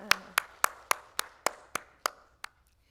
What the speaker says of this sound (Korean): 우리 추경식 목사님, 우리 감사 박수 한번 드리겠습니다.